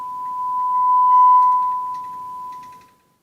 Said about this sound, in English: a 1 kilohertz of sine wave that's hooked up to my auxiliary